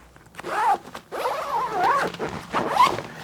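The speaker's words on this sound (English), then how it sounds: "lockable YKK zippers. Again, the Duraflex hardware. Open that all the way up." A lockable YKK zipper on a tactical pouch with Duraflex hardware being pulled open, a few scratchy rasping zips of varying length, close and clear with no talking.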